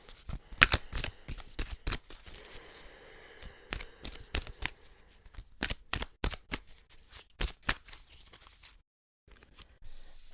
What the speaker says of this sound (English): Today I'm pulling cards from the Healing Waters Oracle deck from Rebecca Campbell